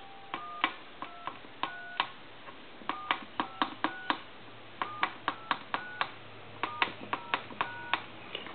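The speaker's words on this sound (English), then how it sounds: "and I'm going to dial your numbers" Dialing tones from a military TA tactical field telephone being repaired: a run of short, clean two-tone beeps, about sixteen of them in quick uneven groups, close and moderately loud over faint room hiss.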